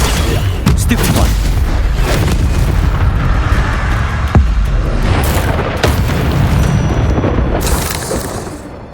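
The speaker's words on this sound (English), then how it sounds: "Stupefy" Spell-combat blasts in Hogwarts Legacy, with a Stupefy spell among loud booming impacts and whooshes over dense game noise and some voice, the rumble fading near the end.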